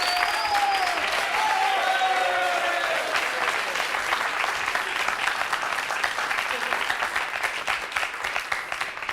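A studio audience on a French talk show applauds for about nine seconds, a steady dense roar of clapping with a few high cheers early on, loud and sustained throughout.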